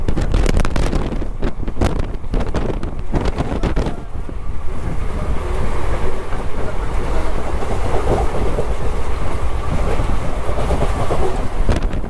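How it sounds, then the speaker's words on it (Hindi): The Gujarat Superfast Express on the Ahmedabad–Mumbai route runs on rails with a loud continuous rumble and rattle of wagons, heard from on board with strong wind buffeting and rhythmic clacks early on. "हमारी train Gujarat super fast express currently Borivali railway station पर पहुंच चुकी है"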